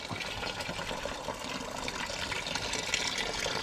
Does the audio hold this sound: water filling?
yes